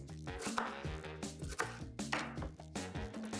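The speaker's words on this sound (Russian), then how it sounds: "нарезаем лук мелкими кубиками" A knife quickly chops onion into small cubes on a board, a series of soft irregular taps heard under background music with a steady melodic beat.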